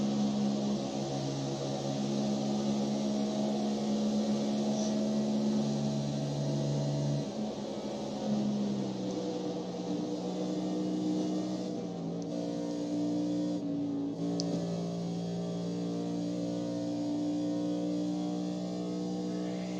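Race car engine in an iRacing oval race at Talladega Superspeedway, droning steadily throughout with pitch shifts and brief dips as the throttle is blipped and feathered, close and loud with no talk.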